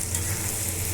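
Potatoes and eggs sauté in a pan for a mixed curry, giving a steady, close sizzle and frying hiss with no voices across the whole moment.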